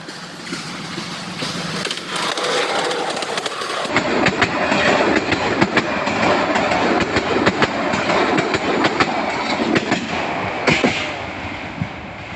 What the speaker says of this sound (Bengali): এবার একদম শিওর ট্রেন আসছে।